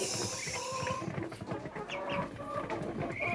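Rhode Island Red chicks in a backyard farm, a cluster of high peeps and chirps repeating at close range, with ducklings nearby.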